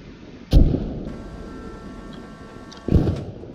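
Mortar fire in the Post Scriptum WWII video game: two loud, booming thumps about two seconds apart, separated by a steady low rumble with a faint mechanical hum in between.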